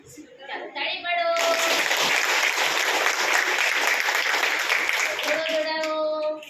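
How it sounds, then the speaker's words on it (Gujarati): A group of children claps hands together in a steady, loud burst of applause lasting several seconds, with a voice talking briefly before and after. "તાળી પાડો."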